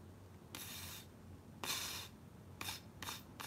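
A flute is blown with air leaking through the lips so no clear tone forms, giving several short breathy rushing puffs of unfocused air separated by brief pauses, close and fairly quiet, with no talking.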